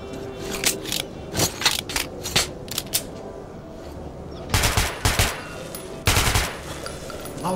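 Gunfire in the Metro 2033 Redux shooter game, sharp cracking shots in uneven bursts, some single and some rapid, with two heavier, louder volleys near the end and no talking.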